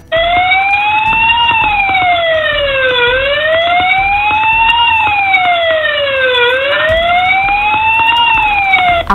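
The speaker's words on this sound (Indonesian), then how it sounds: "Fire alarm." A loud electronic fire alarm siren wails steadily, its tone sweeping up and down in slow repeating cycles with no pauses.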